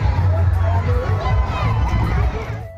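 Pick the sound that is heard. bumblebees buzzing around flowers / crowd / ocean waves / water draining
crowd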